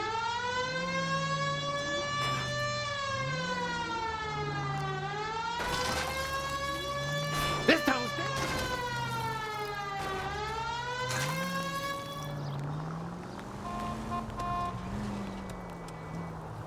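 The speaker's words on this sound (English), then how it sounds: "if you use the siren" A loud police car siren in L.A. Noire sweeps up and down repeatedly and continuously, close by, with a few faint clunks and electronic tones near the end.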